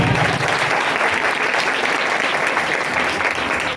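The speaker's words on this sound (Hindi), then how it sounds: "आए खुदा के जलाल के लिए जोरदार तालियां बजाएं" A church congregation at a Christmas sermon breaks into loud, sustained applause, a dense wash of many hands clapping steadily throughout with no pause.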